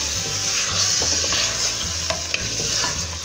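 Chicken pieces sizzling in a hot pan while being stirred, a constant frying hiss with a low hum and occasional light scrapes and taps of a utensil.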